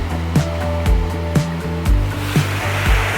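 Ocean waves break and wash in steadily at Supersuck, a popular surf spot in Indonesia, with a repeating rush of surf every half second or so over a constant roar.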